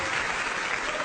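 A smattering of applause plays from a recording, steady dense clapping noise throughout a short stretch, moderately loud with no pauses.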